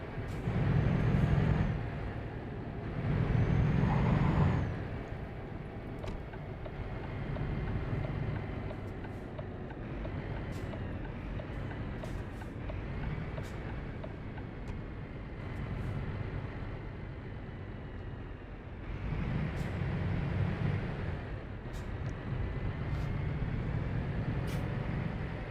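Scania truck lapping a test track, its engine a steady rumble throughout with louder surges near the start and again later, plus scattered brief clanks and rattles.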